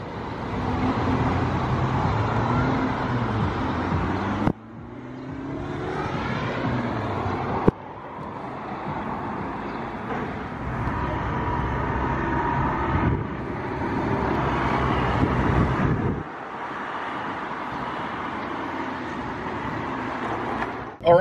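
A 2008 Subaru Sambar mini truck is driven around town and along a highway, a steady engine and road drone with wind buffeting, shifting in tone at a few points as the vehicle moves off through the gears.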